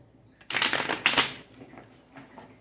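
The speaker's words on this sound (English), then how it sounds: "Let me do one more shuffle." Two quick riffling bursts of a card deck being shuffled, close by, followed by softer taps and shuffles.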